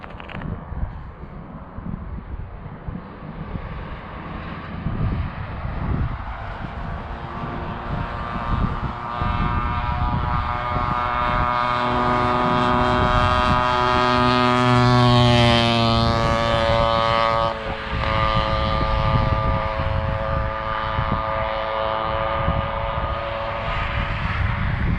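A custom Huffy Nel Lusso cafe racer board track motorbike roars past with a loud, sustained engine drone whose pitch rises and swells as it nears, then holds steady as it pulls away.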